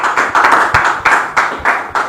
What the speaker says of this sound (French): On les reçoit sous vos applaudissements, s'il vous plaît.